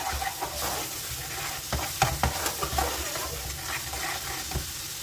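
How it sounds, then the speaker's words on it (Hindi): Spice paste frying in oil in a pan for a dal mash recipe, stirred with a spoon: a steady sizzle with repeated scraping and stirring strokes, close up and without talk. "मसाले को अच्छी तरह से भूनने के बाद हम इसके अंदर तमाम ड्राई मसाले ऐड करेंगे, इसको अच्छी तरह से मिक्स कर लेंगे।"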